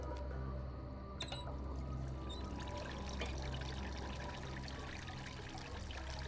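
Computer-generated water pours steadily in Myst IV: Revelation, a continuous trickling stream with low ambient hum and occasional faint clinks, no voices.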